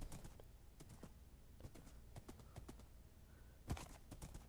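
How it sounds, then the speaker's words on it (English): Rapid hoof clip-clops of a horse galloping in the video game Minecraft, crisp clicking steps in quick bursts at low level with short pauses between runs. "This is such a fast horse."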